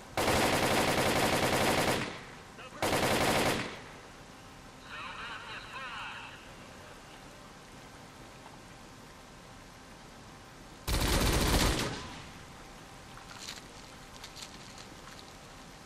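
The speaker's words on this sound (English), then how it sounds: "Who's shooting that damn machine gun?" Machine gun fire in S.T.A.L.K.E.R. Call of Chernobyl, two hard sustained bursts close by early on and a third a while later, separated by quieter ambient stretches with a faint voice in between.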